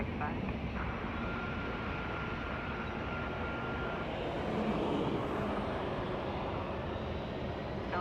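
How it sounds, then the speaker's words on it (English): A Delta Airlines Airbus A321 taxiing at LAX, a steady broadband jet engine roar and hiss holding at even level, moderately distant, with a faint tonal whine early on. "That's an A321 taxiing."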